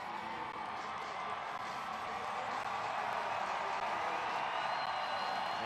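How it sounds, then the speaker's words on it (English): A hockey arena crowd in Norfolk roars steadily during a Wilkes-Barre/Scranton Penguins versus Norfolk Admirals game just after a fight, a dense, even wash of distant voices that stays unbroken throughout. "And the crowd still roaring."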